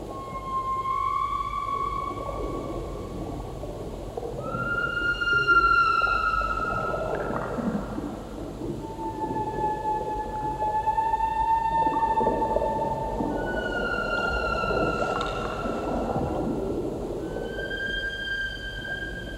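Whale calls in a film soundtrack: long, sliding tonal moans and squeals rise and fall one after another over a soft low rumble, with no talking.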